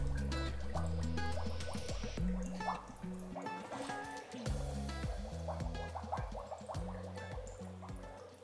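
An old water pump hums steadily beside a small sand waterfall, where water trickles and drips in a dense, irregular patter close to the microphone.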